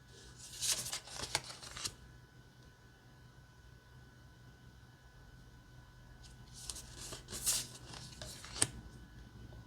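Two short bursts of crisp riffling and flicking as a deck of Star Wars affirmation cards is handled and flipped through, quiet and close, separated by a near-silent pause.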